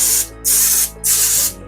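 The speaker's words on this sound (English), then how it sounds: "the egg cups, we're going to spray those with a cooking spray" Two short bursts of hissing cooking spray into egg cups, close and loud, separated by a brief pause.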